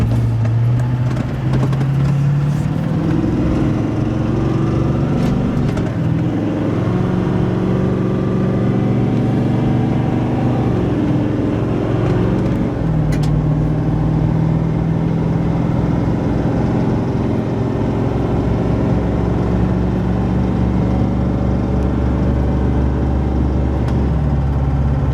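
A Duramax diesel pickup on a 40-horsepower tow tune pulls a restored 20,000 lb gooseneck trailer over gravel, its engine droning low and loud, rising and shifting through gears before settling into a steady rumble.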